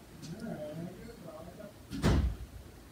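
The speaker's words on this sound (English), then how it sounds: "I need to hear your door close." Quiet talking, then a single close door shutting with a solid thud before the room settles again.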